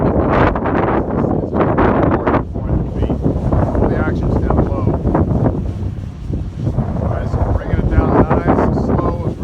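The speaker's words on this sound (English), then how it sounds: "You see it fighting the wind, that's good." Strong wind buffets and roars steadily around a Typhoon H drone hovering at about 400 feet, a constant blustery rush throughout.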